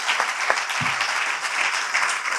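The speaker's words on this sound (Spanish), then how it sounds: "Un aplauso para las tres." Audience applause for three speakers at a panel on audio fiction scriptwriting, a steady, moderately loud crowd clapping with a few sharper close claps, with no talk.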